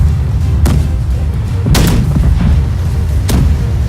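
Ship cannons firing in the pirate naval game Blackwake: three heavy booms roughly 1.5 seconds apart, each a sharp blast with a rumbling tail, over constant low wind and sea noise.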